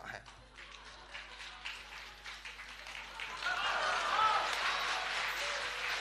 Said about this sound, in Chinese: 给您鼓一鼓掌